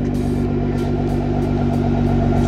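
A Nissan R35 GT-R with a straight-piped exhaust and dry carbon fiber tips revs loudly up close, giving a raw, raspy drone with a rapid pulsing beat that swells and fades in repeated surges.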